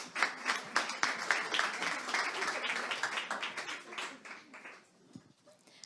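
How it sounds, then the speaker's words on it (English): Audience at a food-tech startup demo day claps as a team is invited onstage, a fairly sparse, quiet round of applause that tapers off near the end. "Please help them out with a round of applause."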